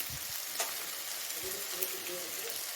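Coriander stems and leaves sauté in a pan while cooking paneer butter masala, giving a steady, quiet sizzle and hiss with a few soft stirring clinks, close and continuous throughout.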